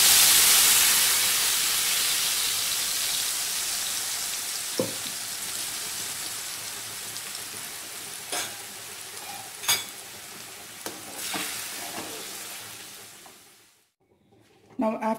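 Tamarind paste hits hot oil already spluttering with asafoetida for a spicy tomato pickle. The sizzle starts as a loud, steady hiss that slowly fades over several seconds, with a few soft clicks and pops, then cuts off near the end.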